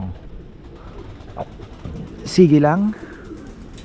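A pigeon coos once in a short, throaty rolling call near a new drinker in a pigeon loft, following brief talk in Filipino with faint background noise.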